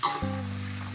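Onions fry in oil with curry leaves until slightly crisp, giving a steady close sizzle with a low hum underneath it for the whole second.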